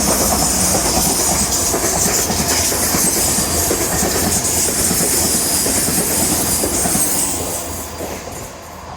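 A train rumbles past steadily along the Teignmouth seawall, wheels clattering loud and close with a faint squeal, then fading slightly toward the end.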